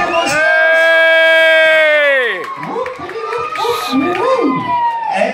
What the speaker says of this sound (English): A big cheer when they blow out the candles.